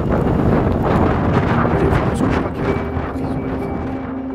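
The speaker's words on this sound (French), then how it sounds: "vous entendez ce vent" Strong wind roaring and buffeting close up, loud and gusty at first, then easing slightly toward the end.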